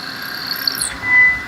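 A Haas VF6 CNC machine drills a hole in a board without coolant, giving a steady high whine from the spindle, then a short rising rasp as the bit cuts and a low swell near the end.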